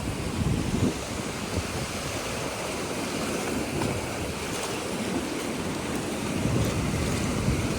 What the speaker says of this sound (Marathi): तिकडे लाटा बघा कसल्या खतरनाक फुटत आहेत